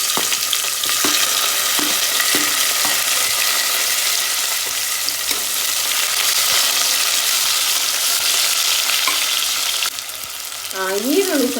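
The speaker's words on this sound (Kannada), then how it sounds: "ನೆಕ್ಸ್ಟು ನಾನು ಇದಕ್ಕೆ ಈರುಳ್ಳಿಯನ್ನು ಹಾಕ್ತಾ ಇದ್ದೀನಿ." Chopped onions sizzle and fry steadily in hot oil in a home kitchen pan for a mushroom biryani, a loud continuous crackle with occasional stirring scrapes and a brief clatter near the end.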